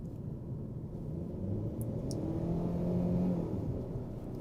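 A 2024 Hyundai Sonata with the base 2.5-liter, 191-horsepower engine accelerates in sport mode, a steady low engine drone rising slightly in pitch and loudness from inside the cabin, with no talk.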